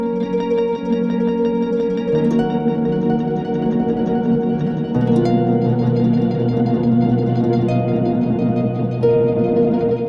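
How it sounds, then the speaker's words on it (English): Old Blood Noise Bathing delay pedal driven by an expression ramper, a dense wash of sustained, shifting tones with wobbling modulated repeats and pitch changes every few seconds, steady and loud throughout with no voices. "Or you can use an expression ramper to make things sound even more wild."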